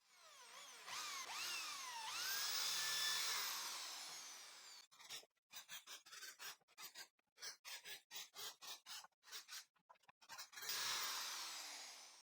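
A hand drill fitted with a 3.5 mm bit and 10 mm countersink boring into wood, a whining motor ramping up and down, then a rapid series of short stop-start bursts before one more sustained run, close and alone.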